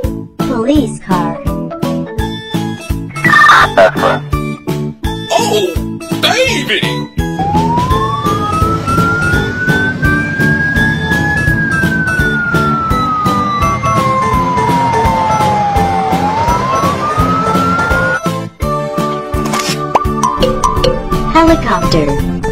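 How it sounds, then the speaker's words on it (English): A loud police siren wails up and down, rising and falling in long sweeps over background music, with short chopped bursts before and after. "Police car."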